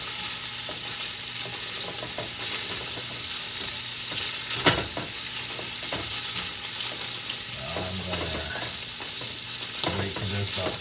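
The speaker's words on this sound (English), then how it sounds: "Cook it and break it up into as small pieces as possible so it can all have an opportunity to be browned" Ground meat sizzles and browns in a pan for soup, with a steady loud hiss, a sharp utensil scrape near the middle and a few stirring knocks toward the end.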